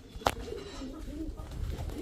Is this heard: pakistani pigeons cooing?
yes